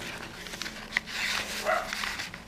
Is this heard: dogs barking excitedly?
yes